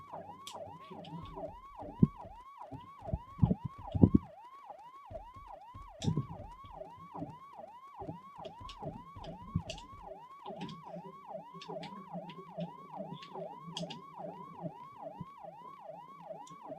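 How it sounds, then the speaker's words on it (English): A wailing electronic siren in a video game cycles up and down continuously at a steady pace, with scattered clicks and thumps underneath. "They really could have done without those siren noises"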